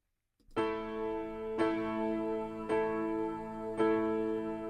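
A recording plays alone: four sustained piano-like chords struck about a second apart, each ringing with rich harmonics and slowly decaying, loud and close with no talking.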